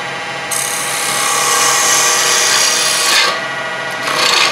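A wood gouge cuts a laminated wooden bowl spinning on a lathe, giving a loud, steady scraping rasp close by that swells and eases slightly as the cut proceeds, with no talking.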